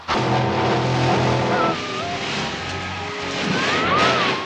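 Car from the 1985 film American Ninja driving away, a loud sustained engine roar with tonal revving and a brief skid-like squeal, continuous throughout, no voices.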